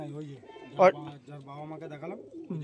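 Chennai breed pigeons in a loft coo softly at close range, a low rolling call repeated over a couple of seconds, while people talk nearby.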